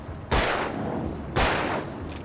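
Two loud gunshots fired at an enemy in the Alan Wake video game, about a second apart, each a sharp blast with a long decaying tail and no talk over them.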